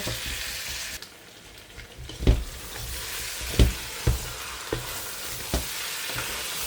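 Rice being fried in a pot while making biryani, with a steady sizzle throughout and several sharp stirring scrapes and knocks spaced a second or so apart, close and moderately loud.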